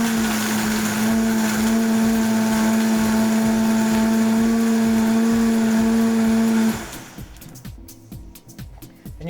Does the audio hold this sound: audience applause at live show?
no